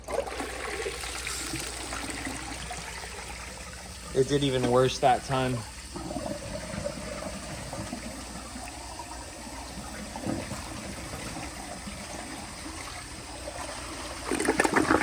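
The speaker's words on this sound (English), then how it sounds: "Okay, here's a flush." A round 1991 Cisa toilet flushes with a short burst of rushing, gurgling water partway through, while a person talks over the rest of the clip.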